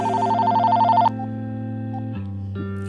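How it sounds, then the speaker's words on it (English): A telephone rings for an incoming call, a loud electronic ring tone pulsing in a fast repeating pattern for about a second before the sound shifts to sustained tones, with no speech. "this video is going to start off with a life-changing phone call"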